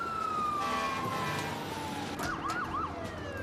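A fire engine siren wails as it rushes to a house fire, a sweeping tone joined by a faster yelping pattern near the end, heard at moderate distance over traffic noise.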